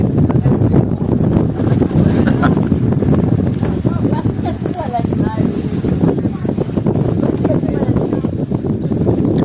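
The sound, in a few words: strong wind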